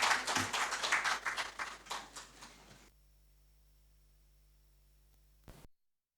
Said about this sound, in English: Shall we acknowledge him with a round of applause